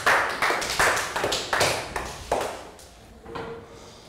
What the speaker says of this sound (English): And a round of applause for Prel.